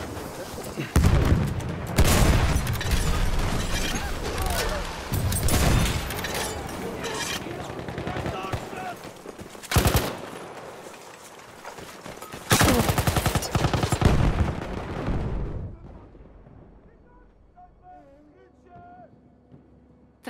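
Battlefield 1 gameplay is full of dense gunfire and bomb blasts that stay loud and continuous, with heavy booms scattered through, then fade to quieter game sounds near the end; in-game voices are heard.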